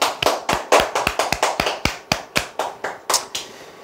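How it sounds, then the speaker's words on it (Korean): An audience claps in a quick, uneven burst of sharp hand claps, close and fairly loud, tapering off after a few seconds with no talking over it. "박수 한번 치시죠."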